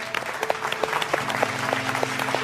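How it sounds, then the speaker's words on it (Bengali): An audience at a televised cooking competition claps steadily for several seconds, a dense, continuous patter of hands with a faint crowd murmur beneath. "হাততালি দেই আমরা"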